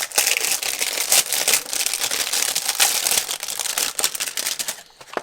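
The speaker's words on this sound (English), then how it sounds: "I'm gonna really quickly cut it open" A sensor cleaning kit package cut open by hand, with continuous close crinkling and crackling of packaging material that fades out near the end, no talking.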